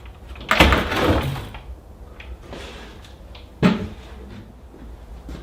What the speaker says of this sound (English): See what I mean about the drawers starting to stick, how tight the runner was?